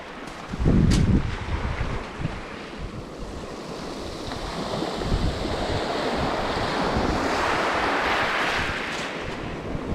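Sea surf rolls and breaks on the shore at a UK beach where someone is fishing for plaice. A steady, loud wash roars close by with wind buffeting the microphone and a sharper splash near the start. Nobody speaks.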